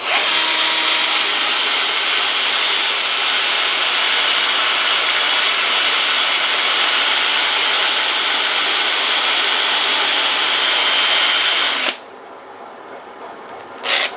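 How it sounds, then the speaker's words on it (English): A 120 grit Abernet sanding disc spins at low speed against figured wood, giving a loud, steady whirring grind that runs unbroken for about twelve seconds, then cuts off to quiet with a brief final rustle. "using the same 120 grit Abernet disc and running probably around 200, 300 RPM"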